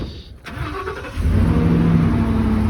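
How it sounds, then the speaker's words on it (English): A surplus vehicle's engine cranks briefly and catches on its own without a jump, settling into a steady, close idle that runs loud and continuous to the end. "This one actually starts right up without a jump."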